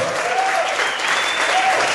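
Worship audience applauding in praise of God, a steady, close, even wash of clapping throughout.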